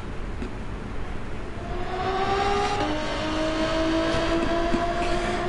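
A race car engine in the video game Gran Turismo 7 whines continuously with rising pitch as it accelerates, loud and steady over a constant roar of road noise.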